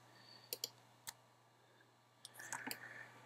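Mouse clicks while modelling a 3D DVD case in Cinema 4D: a few sharp, close clicks early on, then a quick cluster of clicks near the end, over a quiet background hum.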